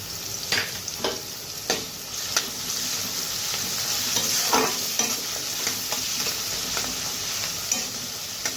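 Chopped ginger, garlic and green chillies frying in a pan for pasta, a steady close sizzle punctuated by regular spatula scrapes and taps, with no one speaking.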